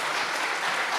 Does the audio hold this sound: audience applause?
yes